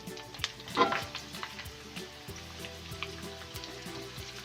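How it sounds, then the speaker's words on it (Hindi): Shredded cabbage dropped into hot oil after capsicum for Chinese fried rice, frying with a steady close sizzle and a brief louder burst near the start, plus occasional stirring clicks. "अब हम इस ऑयल में ऐड करेंगे, ये देखिए, बंद गोभी है"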